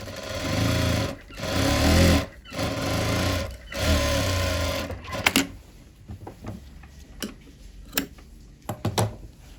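A sewing machine stitching a pattupavadai, a traditional silk skirt and top, buzzes in three close, loud runs separated by brief stops, then falls quiet apart from scattered clicks and ticks of handling.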